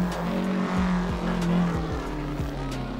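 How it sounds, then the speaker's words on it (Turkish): A Tofaş Doğan SL slides on the Mulholland roads in the Assetto Corsa racing game, its engine droning steadily under repeated tire squeals and skid noises, loud and continuous with no talk. "Araba basit ya, böyle sekiyor arkadaşlar."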